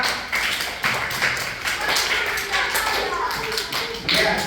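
Students in a classroom clapping their hands in a steady, fairly loud rhythm, with voices mixed in.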